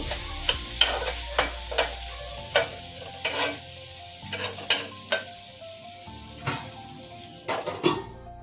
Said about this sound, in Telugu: కొంచెం గరం మసాలా బాగా కలుపుకొని సిమ్లోనే పెట్టుకొని ఒక 5 నిమిషాలు ఫ్రై చేసుకోవాలండి.